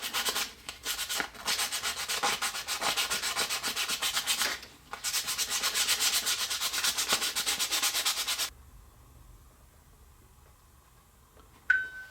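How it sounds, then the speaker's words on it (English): Rapid back-and-forth scratchy sanding strokes on a small wooden chip clip part, close and continuous for several seconds, with a brief pause, then quiet with a small click at the end. "we'll just give that a quick sanding"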